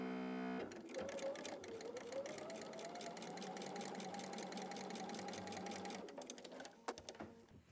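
A domestic sewing machine stitches a quarter-inch seam on a quilt block, running at a steady fast hum with a rapid needle chatter for about five seconds, then slowing and stopping with a few soft clicks.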